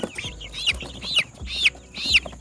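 Chickens clucking close by in a brooder, a quick run of several sharp, bright clucks and calls spaced in a loose rhythm, clear and fairly loud with no talk.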